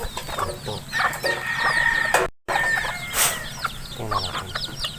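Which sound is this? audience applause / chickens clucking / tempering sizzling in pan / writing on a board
chickens clucking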